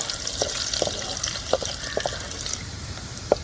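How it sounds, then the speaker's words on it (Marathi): Crushed garlic cloves sizzle in hot oil in a pan, a steady soft frying hiss with occasional small pops and spatters, heard close up. "लसणाच्या पाकळ्या ठेचून घेतल्यात त्या घालते मी तेलात लसूणला मी लाल तर परतून घेते"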